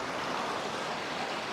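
Steady broadband rush of a stream of flowing water in a hilly Buner area, continuous and fairly close, with no voices over it.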